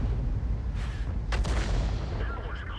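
An artillery shell landing in a tank video game gives a deep boom followed by a rumbling, sustained blast, while someone talks over it.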